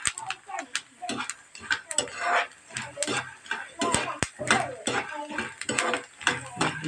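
Soybeans (bhatmas) dry-roasting in a pan, popping and crackling in a dense, irregular run of sharp clicks and snaps close by, with a voice talking over them.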